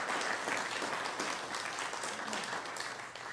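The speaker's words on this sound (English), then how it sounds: "Another round of applause for Tennessee Fireplace and Chimney" Audience applause at a business awards ceremony, a steady dense patter of many hands clapping continuously, fairly loud and close, with a slight fade at the end.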